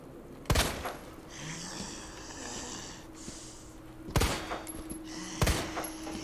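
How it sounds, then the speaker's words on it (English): A handgun fires in the video game Resident Evil 2 Remake. Three sharp, heavy shots ring out alone over a low ambient game soundtrack, the first early and the next two close together near the end, with faint breathing sounds in between. "this gun shoots heavier than I expect"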